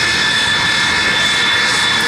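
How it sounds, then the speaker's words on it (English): A jet fighter coming in at the Mudgee car and airshow produces a steady, loud roar with a high whine running through it, sustained throughout with no talking. "Just a little bit of jet noise of the aircraft coming in."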